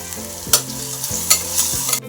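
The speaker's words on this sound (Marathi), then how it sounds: "कांदा जरा भाजून घेते. कांदा जरा भाजत आला की टोमॅटो टाकते." Onion and tomato frying with turmeric in a pan, with a steady sizzle broken by a few louder stirring scrapes about every half second to second, close and with no voices.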